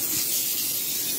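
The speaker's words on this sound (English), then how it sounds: "I'm going to now spray it with this canola oil so it won't stick" Canola oil cooking spray hisses steadily onto a lined pan, a single continuous aerosol burst lasting just over a second, close and clear with no talking.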